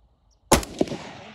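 A single sharp, close gunshot fired at the emblem of a Dodge Durango 4x4 cracks out of near silence, followed by a brief echo and a trailing rumble.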